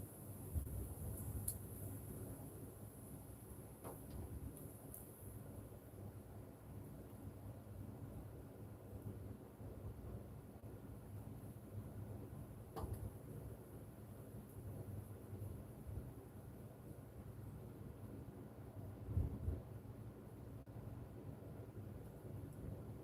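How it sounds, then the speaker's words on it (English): Wind gusting outdoors as a steady low rumble with rushing noise, fairly constant throughout with a couple of brief louder buffets near the middle and end. "the wind just picked back up again"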